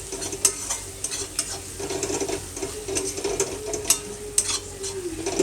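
Spices with coriander powder being stir-fried in a pan for a pangas fish and potato curry: a close, steady sizzle under repeated quick spatula scrapes and light clinks against the metal pan, with no voices.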